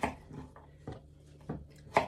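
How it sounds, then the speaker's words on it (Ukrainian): A knife cuts pumpkin into rough cubes on a board for pumpkin porridge, giving four or five soft, separate chops spaced about half a second apart, quiet and close with no talk. "Ріжемо на такі довільні кубички."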